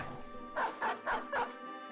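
A war dog in the video game Oathtakers barks four times in a quick, even run, clear and fairly close.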